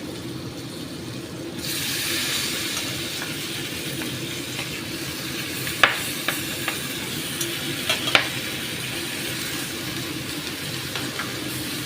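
Malabar spinach (pui shak) dropped into a pan with hilsa fish head, a sudden loud sizzle that continues as a steady hiss with a few clinks of stirring, no talking.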